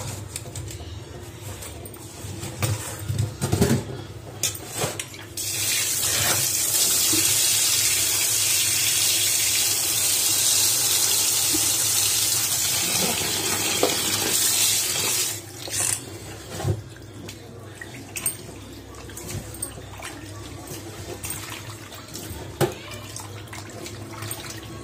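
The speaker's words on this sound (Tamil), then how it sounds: "ரன்னிங் வாட்டரில் இதை வந்து க்ளீன் பண்ணி எடுத்துக்கலாம்" Tap water runs steadily onto fish being rinsed clean in a home kitchen, a continuous splashing gush lasting several seconds, framed by handling clatter before and after.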